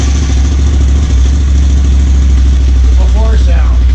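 An ATV engine on its stock exhaust idles loud and close with a deep, steady throb, while someone talks briefly over it near the end.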